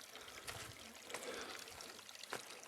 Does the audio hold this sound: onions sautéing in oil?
no